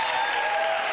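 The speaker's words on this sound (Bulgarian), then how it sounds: "Аплодисменти за Мис България 2009 и Мисис Русия 2012 Антония Петрова Бередин." A studio audience at a Miss Bulgaria pageant show bursts into dense, steady applause, a close wash of clapping that fills the short moment alone.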